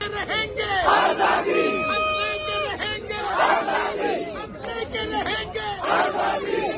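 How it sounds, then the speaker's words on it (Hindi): A large protest crowd chants slogans in loud, rhythmic unison, with voices rising and falling in repeated waves and some clapping mixed in. "कुछ लोग ताली बजाकर वहां नारे लगाते भी नजर आए।"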